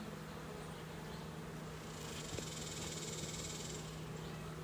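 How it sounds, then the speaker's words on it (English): Honey bees buzzing in a hive super during a summer hive inspection, a steady low drone that holds throughout, with a faint higher hum swelling in the middle. "there is a lot of bees here"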